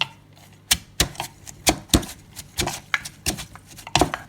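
Shredded carrot for a fruit salad is pounded in a mortar, with about a dozen sharp, loud thuds at an uneven but steady rhythm and brief pauses between strikes.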